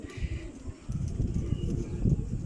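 Pigeons coo in soft, low, repeated calls close by, with faint voices and handling noise in the background.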